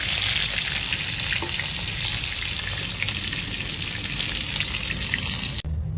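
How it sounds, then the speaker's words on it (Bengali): Bhola fish fry in a pan, a loud, continuous dense sizzle that holds steady for several seconds before cutting off abruptly near the end. "মাছগুলো সব তুলে দেবো ভাজা হয়ে গেছে"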